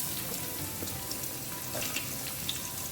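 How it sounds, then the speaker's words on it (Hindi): Finely chopped onions fry in a pan for bhindi bhaji, a steady, soft, even sizzle with light crackling, fairly quiet and unbroken, with no talking. "अब प्याज को ना 1-2 मिनट के लिए अच्छे से भून लेते हैं"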